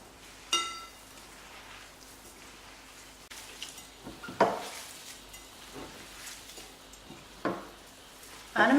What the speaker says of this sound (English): Now I'm going to give it a good mix, and if I think the material is a little bit too dry, I'm going to add a little bit more olive oil.